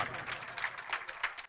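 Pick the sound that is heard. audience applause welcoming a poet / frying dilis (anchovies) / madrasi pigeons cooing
audience applause welcoming a poet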